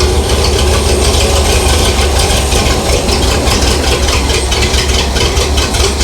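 A 1948 Willys Jeep engine idles steadily and loudly for the whole stretch, a low continuous rumble with a rough mechanical chatter and no voices over it.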